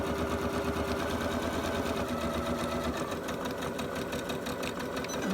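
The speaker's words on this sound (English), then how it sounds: "So you are going to sew off of one onto the next, back tack, and then come straight down." A sewing machine stitches continuously while chain piecing fabric pieces for Halloween bunting, a steady loud mechanical whirr with rapid rhythmic needle clatter running throughout, close up and with no talking.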